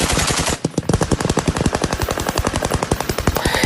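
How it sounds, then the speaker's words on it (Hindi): Rapid heavy gunfire from news footage, a loud close burst of automatic shots in fast, steady succession with a brief gap near the start, no voices. "ये ताबड़तोड़ फायरिंग हो रही है, सोचिए, ये अभी भी लगातार ऐसी ही जारी है।"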